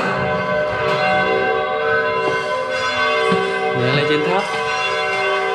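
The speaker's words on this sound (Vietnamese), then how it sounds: "Ồ, bạn này đánh chuông bạn này." Church bell struck inside the bell tower of Hưng Nghĩa shrine in Nam Định, rich ringing tones sustained and overlapping through the whole stretch, loud and close, with someone speaking briefly over it.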